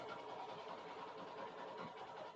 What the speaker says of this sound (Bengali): বাইক স্টার্ট দিলাম